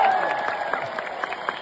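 A dense arena crowd at WWE Raw in London roars and applauds for wrestler Cody Rhodes, with steady, loud cheering and scattered claps throughout and no pause in the noise.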